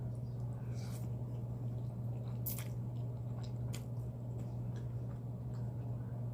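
Someone eating a meal of meaty chicken parmesan spaghetti and pizza, with faint, close chewing and a few soft bites and squishes over a steady low hum.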